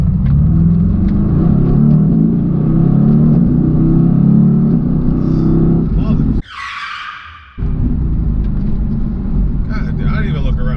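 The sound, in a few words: Mercedes AMG GT accelerating hard from a red light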